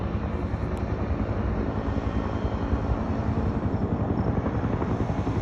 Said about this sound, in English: It's a serious helicopter too.